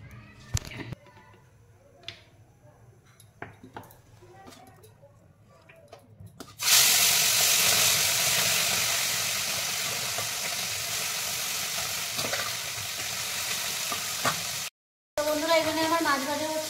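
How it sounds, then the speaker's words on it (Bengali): Fish frying in a pan gives a steady, loud hiss and sizzle that starts abruptly partway through and continues almost unbroken, after a quieter stretch of faint kitchen clatter. "এখানে আমার মাছ ভাজা হচ্ছে"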